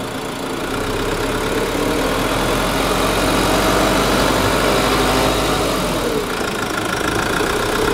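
A car engine in a workshop hums steadily at close range with a dense, rough mechanical drone, swelling slightly as a little throttle is given, with no talking over it.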